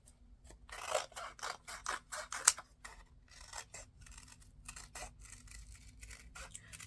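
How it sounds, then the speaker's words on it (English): Scissors cut through a stack of five old book pages, giving a run of short dry snipping and rasping strokes, close and fairly quiet, with no talking. "I'm hoping that I can cut through 5 pages at once."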